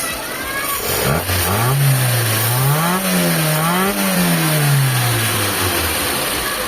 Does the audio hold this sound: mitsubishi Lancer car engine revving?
yes